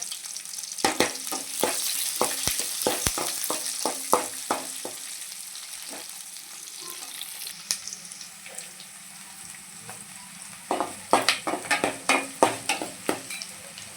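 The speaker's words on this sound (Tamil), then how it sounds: "வெந்தயம் பெருஞ்சீரகம்லாம் பொரிஞ்சோடனே வெங்காயம் போட்டுக்கலாம் சின்ன வெங்காயம் போட்டுக்கலாம்" Small shallots fry in hot oil with fenugreek and fennel seeds for a fish curry, a close, continuous sizzle broken by clusters of sharp spatula scrapes and taps against the pan.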